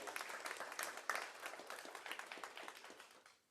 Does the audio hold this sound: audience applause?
yes